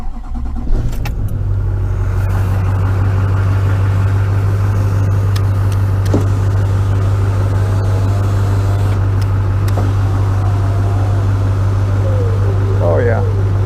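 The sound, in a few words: car engine running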